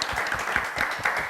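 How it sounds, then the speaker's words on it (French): A television studio audience gives the visiting coaches a brief round of applause, a short burst of close, dense clapping at even loudness. "je vous vais demander d'applaudir bien fort les coachs qui sont venus sur le plateau avec nous."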